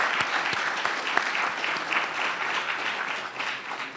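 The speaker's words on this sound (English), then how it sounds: "Could you all please just stand so we can give you an applause?" Attendees at an education report release applaud the standing Gallup and Strada teams, with a moderately loud, even wash of clapping and a few sharper claps near the start.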